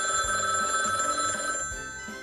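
A telephone rings out in a Christmas-themed setting, its tone sustained with faint rhythmic bumps beneath and no talking over it.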